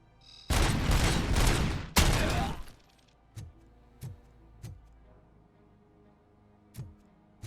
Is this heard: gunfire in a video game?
yes